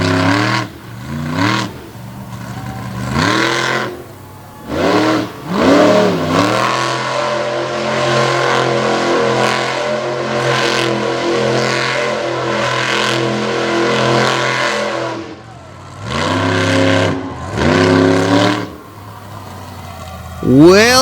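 A pulling truck's engine at a truck pull on dry grass in Brownstown, Indiana, revs hard in repeated rising and falling bursts, then settles into a long, loud, sustained roar. A brief burst of revving follows, and an announcer talks over it.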